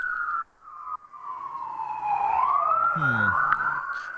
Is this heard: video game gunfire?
no